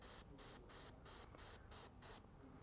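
An airbrush sprays paint onto a scale model in seven short, evenly spaced bursts of fine hissing, each about a quarter second long, close and fairly quiet, with brief pauses between them.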